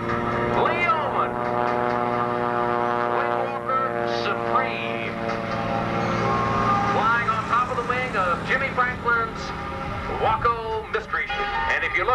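A Waco biplane drones past at a 1994 Midland, Texas air show with a man standing over its cockpit, the propeller engine humming steadily and shifting in pitch beneath an announcer's running commentary.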